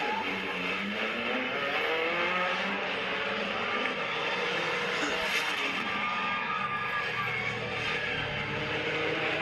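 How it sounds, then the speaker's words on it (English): A truck engine roars and revs continuously at a stunt event before a backflip attempt, loud and sustained throughout with a broad, harsh engine drone and crowd-like noise. "the thumbs up for Reese Millen, trying to become the first to attempt a backflip in a truck."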